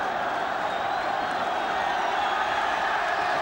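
Football crowd roars and cheers continuously for the Scotland team after a memorable win over England in 1976, a dense, loud wall of stadium noise with no break.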